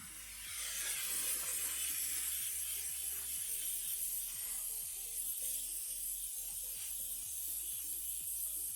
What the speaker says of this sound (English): we can jump right into the steaming on that